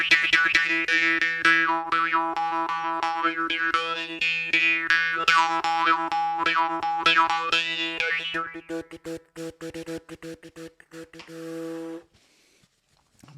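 A morsing, the South Indian jaw harp from Tamil Nadu, twangs steadily with a buzzing drone and shifting vowel-like overtones. The playing is close and loud, turns to rapid rhythmic plucks near the end, then stops abruptly.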